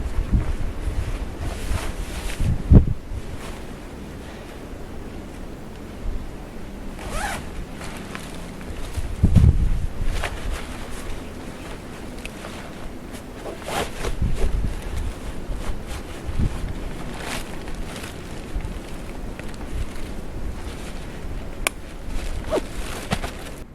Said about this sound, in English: because it is windy out here